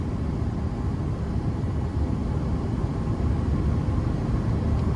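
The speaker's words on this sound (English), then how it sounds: "the AC vents are pretty loud just because it's at full blast" Air conditioning vents in a roughly 25-year-old Chevrolet Silverado with a 5.7-liter V8, running at full blast on a hot day, a steady loud broadband rush of air with no talking.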